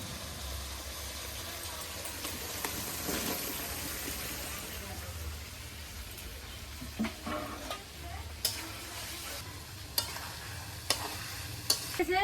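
Fried potatoes are stirred into a sizzling, cooked-down spice masala with turmeric and salt in a village kitchen: a steady frying hiss with a spoon scraping the pan, and sharper clinks and scrapes growing toward the end.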